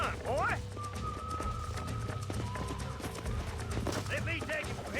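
Horse hooves in the video game Red Dead Redemption clop in a quick, regular gallop rhythm throughout, mixed with game sound effects and a voice speaking over it.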